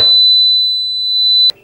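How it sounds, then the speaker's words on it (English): Acoustic alarm of a dormakaba Argus sensor barrier: a single loud, piercing steady electronic tone holds for about one and a half seconds, then stops abruptly. "Acoustic alarms draws attention of the guard when used without authorization."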